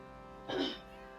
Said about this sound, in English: Sorry, I have a really bad cough.